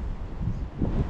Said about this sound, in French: le vent se met à souffler